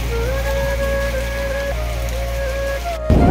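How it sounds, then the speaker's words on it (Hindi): Heavy rain falls outdoors near Niyavasti as a constant loud hiss. A thin wavering whine runs through it, and a sudden louder rumble comes at the very end. "काफी बारिश बहुत हो रही है भाई यहाँ पे"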